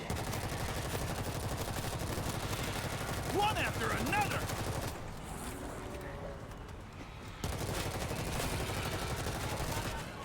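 Rapid automatic weapon fire from a World War Z game session, a dense continuous burst that drops out briefly midway, then resumes loudly to the end.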